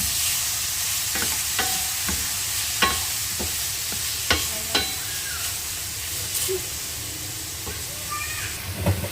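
Tomatoes sautéing for pakbet ilocano with oyster sauce, a loud, steady hissing sizzle with occasional clicks and scrapes from stirring, heard close and filling the whole stretch.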